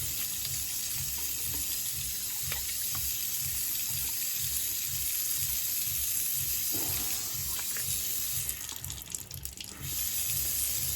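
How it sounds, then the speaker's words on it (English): Cold water runs steadily from a sink tap during cleanup after a straight-razor shave, a continuous close hiss with faint clinks and splashes. "I put on some cold water."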